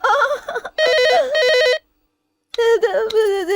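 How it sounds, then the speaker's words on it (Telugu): A telephone rings in a scene from the Telugu film Nuvve Kavali: loud, close electronic ringing in two bursts separated by a short silent pause. "దెయ్యాలకి ఫోన్లు రావు, నీకే అయ్యుంటుంది."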